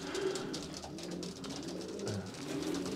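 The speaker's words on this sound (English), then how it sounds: "Good fast pigeons." Pigeons coo inside a racing pigeon loft, soft low throaty coos repeating over a steady background hum, fairly close, with several birds overlapping and no speech.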